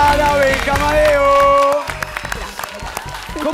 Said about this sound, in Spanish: Un fuerte aplauso para Mamá Blanca